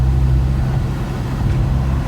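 2015 Alfa Romeo 4C sports coupe accelerating hard, a loud, deep, throbbing engine rumble heard from close by for a couple of seconds.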